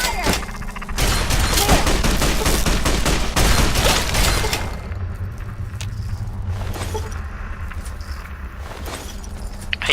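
Sustained gunfire from the Fallout: Tale of Two Wastelands video game, a dense, loud rapid burst for several seconds that then thins into scattered shots and clatter over a lingering rumble.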